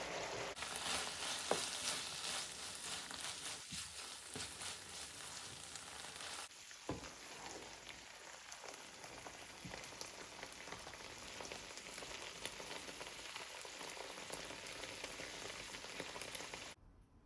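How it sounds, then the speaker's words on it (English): Minced keema meat fries in a pan on medium heat, giving a steady close sizzle with crackles throughout and no one speaking. "I am going to cook the meat for another 10 minutes on medium heat."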